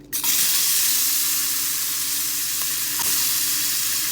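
Half a medium onion and half a medium green pepper hit melted butter in a hot pan on high heat, bursting into a loud, steady sizzle that holds without letup.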